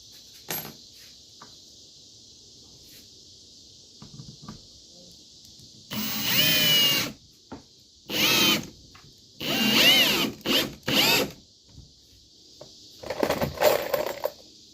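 A power drill whirs in several short, loud bursts, driving screws into wood without pre-drilled holes while building a raised garden bed, cracking the wood, with quiet pauses and small clicks between runs.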